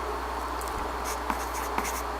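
A pencil writes on notebook paper during a cross-multiplication problem, a close, dry scratching with short strokes and small taps, heard alone with no talking.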